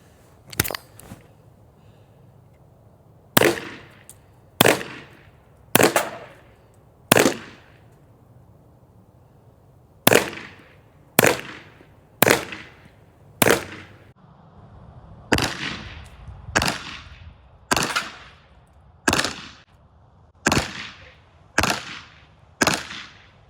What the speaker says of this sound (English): we'll shoot 4 shots at the bottom bullseye and 4 shots at the top bullseye